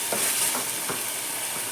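Ridge gourd frying in oil, a steady hissing sizzle with a few soft stirring scrapes spaced out across the moment.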